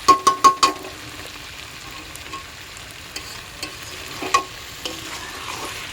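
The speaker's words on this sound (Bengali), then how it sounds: "তো দেখো এখানে এই যে বিরিয়ানির ডিম আর আলুটা কষিয়ে নিচ্ছি" Eggs and potatoes for biryani sautéing in a pan, opening with four quick loud clanks of a spatula against the pan, then a steady close sizzle broken by occasional scraping strokes.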